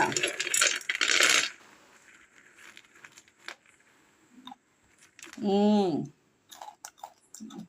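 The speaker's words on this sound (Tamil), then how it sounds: "சீடை ரெடிங்க அவ்வளோ சவுண்டு கேட்குது பார்த்தீங்களா" Crisp crunching of freshly fried kara seedai, a spicy rice-flour snack made at home for Krishna Jayanthi, comes in dense bursts early on, followed by a brief voice and a few scattered clicks.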